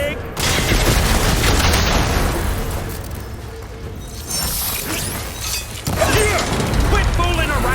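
Gunfire and explosions in the video game Horizon Forbidden West, with dense, continuous bursts of shots, crashes and booms over a loud battle din while characters shout.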